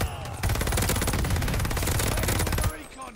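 Rapid, continuous gunfire from a ball turret in the video game Call of Duty Vanguard: a loud, dense burst of automatic fire lasting over two seconds, then cutting off abruptly.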